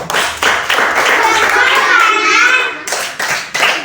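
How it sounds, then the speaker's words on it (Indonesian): Children clap their hands in quick, loud bursts at the start and end, with young voices chattering in between. "Beri tepuk hebat untuk teman kita semua."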